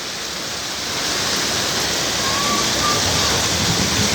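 Heavy rain pouring down during a thunderstorm, a dense, steady roar of water that swells slightly after the first second and stays loud and continuous throughout.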